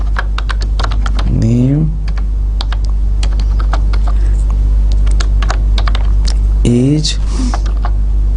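Rapid keystrokes on a computer keyboard while C code is entered, clattering steadily and close up throughout, with someone briefly speaking twice over the typing.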